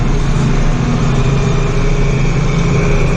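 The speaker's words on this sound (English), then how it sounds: "Out here driving with the 4450." The engine of a John Deere 4450 tractor drones loud and steady while the tractor drives across a field raking hay, a constant close rumble with no talk.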